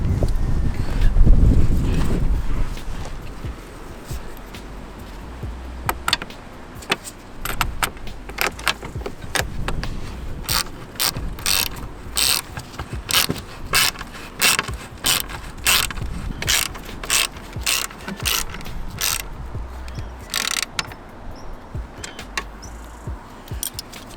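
Ratchet clicking in quick repeated bursts as bolts are tightened on a front splitter of an MK8 Ford Fiesta, close and fairly loud, with a low rumble and brief handling noise at the start.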